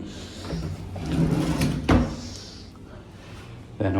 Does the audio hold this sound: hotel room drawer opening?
yes